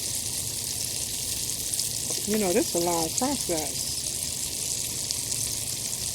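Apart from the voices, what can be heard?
liver frying in a pan outdoors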